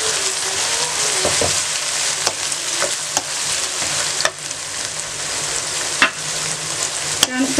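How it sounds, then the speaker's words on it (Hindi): Chicken with garlic paste sizzles and fries steadily in a pan, with a dense hiss throughout and occasional clicks and scrapes of stirring. No one speaks. "सेकंड के लिए आपने लहसुन को फ्राई करना है, साथ ही आपने हरी मिर्चें भी डाल देनी हैं।"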